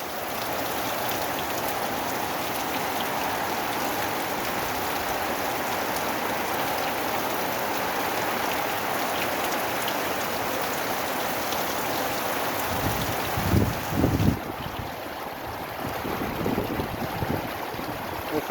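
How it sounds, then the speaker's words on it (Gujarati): Gentle, windless rain falls steadily over a village in Bhayasar, Rajkot, a dense even patter that stays uniform throughout, with a few louder splashy bursts near the end. "પવન જરી નથી, શાંત વરસાદ વરે છે. વગર પવનનો વરસાદ અત્યારે વરે છે"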